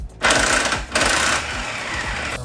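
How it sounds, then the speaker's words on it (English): An electric impact wrench loosening the 17 mm lower shock bolt on a Mazda Miata during a coilover install, running in two loud, sustained rattling bursts with a short pause between, close by and alone. "So one thing that's nice to have is an electric impact."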